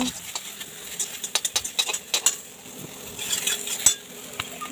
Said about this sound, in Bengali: লবণ হলুদ দিয়ে একটু নাড়াচাড়া করে নেব